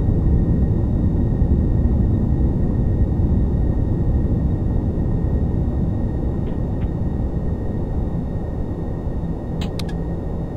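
Boeing 747-400 takeoff roll in a home flight simulator: steady, loud jet engine roar and broadband rumble throughout, with a couple of faint clicks and a brief chime near the end.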